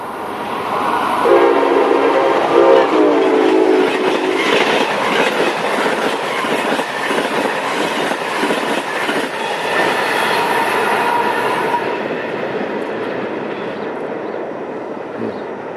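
An Amtrak passenger train passes at a busy CSX rail junction, sounding a loud horn blast early on over a steady roar of wheels and rolling cars that stays strong throughout.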